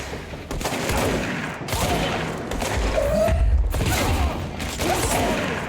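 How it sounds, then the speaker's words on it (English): Loud, booming shotgun blasts from the video game Alan Wake, several heavy shots close together amid a chaotic firefight, each one leaving a lingering rumble. "I swear that's the Max Payne shotgun sound effect."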